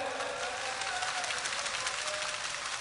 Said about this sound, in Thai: ปรบมือให้ฝ่ายเสื้อแดง